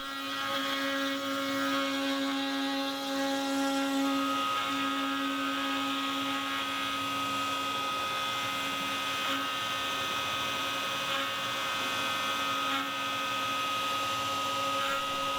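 A CNC machine makes a chamfering pass on a workpiece in a workshop, producing a steady, fairly quiet tonal hum and whir with faint intermittent ticks throughout, no voices.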